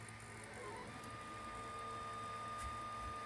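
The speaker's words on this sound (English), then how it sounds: "The CAD model in my 3D print software, and printer just chuntering away." A 3D printer prints a part for a carbon fibre motorcycle mudguard, its motors whirring steadily with a faint tonal whine and soft buzzing, quiet and continuous with no talk.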